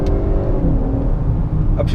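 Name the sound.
2018 Honda sedan engine accelerating with 10-speed transmission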